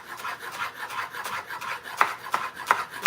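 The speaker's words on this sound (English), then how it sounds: "I'm gonna just cut it down with a knife." A knife cuts down through food with repeated rasping, scraping strokes, a few sharper chopping knocks near the end, fairly close and steady with no talk.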